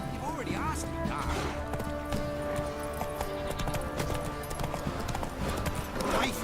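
Horse hooves galloping in The Witcher 3 video game, a loud, rapid, steady clip-clop rhythm running throughout, mixed with game ambience and character voices speaking over it.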